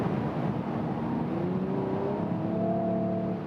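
A Mercedes-AMG E53 estate accelerates hard at around 180 to 200 km/h, a steady muffled drone and wind roar from inside the cabin with a rising engine tone, no talk.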